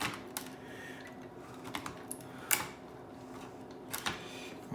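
Keyboard of a Thomson TO7 computer being handled, a few sparse plastic clicks and knocks scattered over a quiet room, with a sharper louder clack near the middle and another toward the end.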